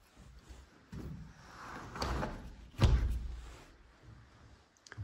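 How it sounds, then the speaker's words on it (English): A formerly locked door in a single-level log home being opened, a series of soft thumps and rattles followed by one heavier thunk of the door moving, close by, with no talking. "So I'm going to try that door."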